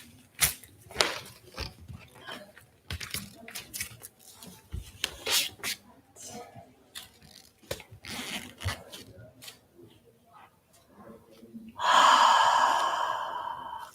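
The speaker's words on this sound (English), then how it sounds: "And take a few breaths deep down the spine." Slow, deep breaths taken while resting in yoga child's pose, soft airy inhales and exhales repeating close by, ending in a long, louder exhale.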